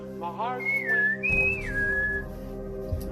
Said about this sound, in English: He doesn't really like it when you whistle.